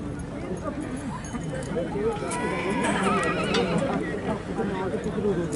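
Horses neigh and whinny at a Marwari horse show in Faridkot, with hooves clip-clopping and people talking throughout, the neighs rising loudest in the middle of the clip.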